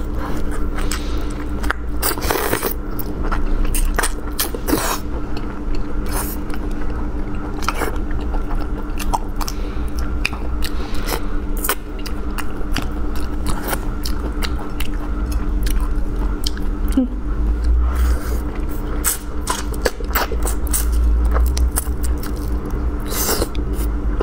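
Big prawns, a two-filling shrimp dish, bitten and chewed close to the mic, with steady wet crunching and squishing bites repeating throughout, loud and continuous with no talking.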